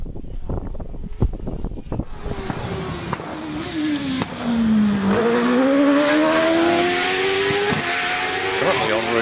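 A DJ Firehawk race car at a British Championship hillclimb at Harewood: a sustained engine note that dips, then climbs in pitch and grows louder from midway, with steady wind noise throughout.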